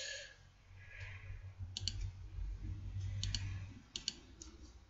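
A computer mouse clicks while someone plays the browser game Shakes and Fidget on a private server: a handful of crisp, close clicks, some doubled, spaced irregularly over a soft low background hum.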